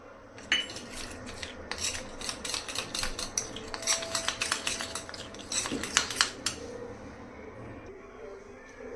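Spoon scrapes and clinks against a small bowl while ghee and maida flour are stirred together for kachori, a close run of irregular metallic taps and scraping strokes, fairly quiet.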